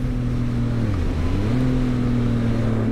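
A motorcycle exhaust running in fourth gear: a steady, loud engine drone that dips in pitch during a downshift and then settles back to an even hum, heard alone without speech.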